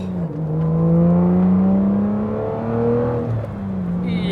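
A manual Aston Martin DBS engine revs up, holds a throaty drone, dips and climbs again, a loud, close, smooth engine note with rising and falling pitch.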